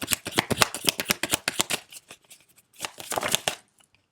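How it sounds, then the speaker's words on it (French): A deck of tarot cards is riffled and shuffled in quick, crisp bursts, close up, with a short pause before a second round of shuffling and no voice. "j'ai envie quand même d'y tirer une carte sur les intrigues pour l'approfondir"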